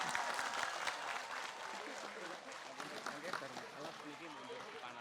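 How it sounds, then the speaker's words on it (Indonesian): At a PCINU Changhua event in Taiwan, an audience claps for BMI, a faint but steady patter of applause with voices mixed in. "Tepuk tangan untuk BMI, keren ini"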